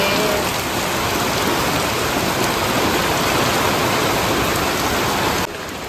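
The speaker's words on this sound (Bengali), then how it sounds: "কেমন হাওয়া শুরু হয়েছে বাপরে, ওইদিকে হচ্ছে এখন হাওয়াটা" Strong wind blowing outside a rural house during a dusty storm, a loud, dense, steady roar close to the microphone that drops away abruptly at the end.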